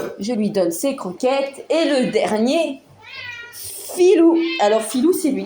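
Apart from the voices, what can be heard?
cat meowing for food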